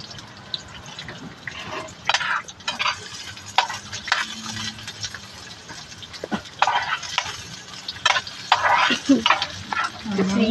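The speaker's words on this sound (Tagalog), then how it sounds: "Magigisa lang tayo ng bawang, sibuyas, tsaka sili." Garlic, onion and chili sautéing in a pan, with steady sizzling and repeated scraping stirs throughout, fairly close, without talk.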